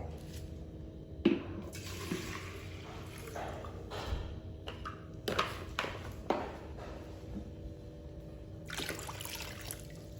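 Chlorine solution, about 300 cc, being poured into a container during an infection-prevention procedure, a quiet trickling pour with a few sharp clinks and knocks.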